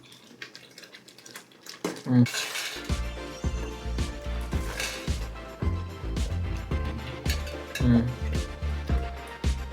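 Homemade tomato jam spooned from a pan into a bowl, metal utensils clinking and scraping in a repeated rhythm, close by, while someone talks throughout.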